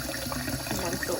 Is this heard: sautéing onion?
no